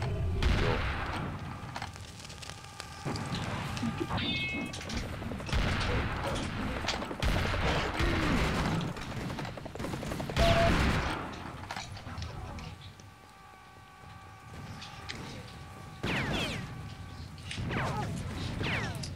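Gunfire in the first-person shooter Serious Sam HD: The First Encounter, repeated loud bursts and rapid shots with explosive crashes and game mechanisms, close and dense, interleaved with someone talking.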